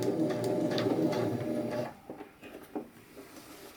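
A beginner sewing machine with a thread cutter and needle threader runs with a steady, close mechanical whir for about two seconds, then stops, leaving faint clicks and handling noises.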